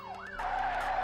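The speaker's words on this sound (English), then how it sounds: "I'll turn the sirens off for your sanity." In the video game The Getaway: Black Monday, a police siren wails in a rising and falling sweep, then a car's tyres skid in a loud, sustained screech, both close and prominent.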